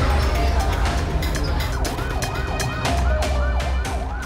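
A wailing ambulance siren rises and falls repeatedly over loud, rumbling traffic noise, close by and continuous throughout.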